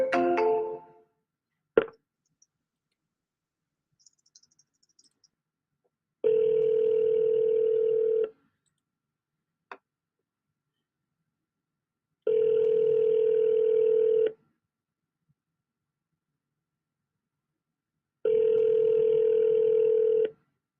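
A telephone call rings out after a few clicks of dialing, with three evenly spaced two-second ringback tones, each followed by silence, clear and close.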